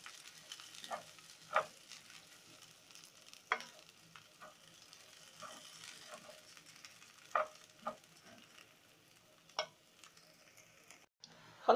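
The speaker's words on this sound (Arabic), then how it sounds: "هقلب الرز مع البصل لحد ما الرز يسخن." Egyptian rice is stirred with fried onions in a pot, giving soft, quiet scrapes and taps against a faint low sizzle. A few sharper clinks stand out at irregular intervals, and no one speaks.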